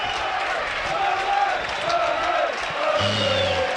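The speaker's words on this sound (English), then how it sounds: "Crowd find the voice" Football crowd at Turf Moor during a Premier League match between Burnley and Everton, a dense roar of cheering and chanting filling the stadium, steady and loud, with a commentator's voice speaking over it.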